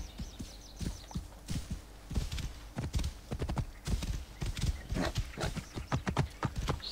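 Horse hooves clip-clopping in Assassin's Creed Origins, a steady rhythmic trot close by, with a faint whinny and sparse game ambience.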